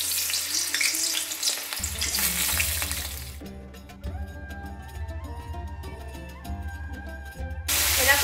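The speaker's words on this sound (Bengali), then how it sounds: "প্রথমেই আমি ঝিঙেগুলোকে একটু ভেজে নেব।" Ridge gourd (luffa) pieces fry in mustard oil in a kadai, giving a steady, close crackling sizzle throughout, with a brief hiss burst at the start and stirring clatter layered over the bubbling.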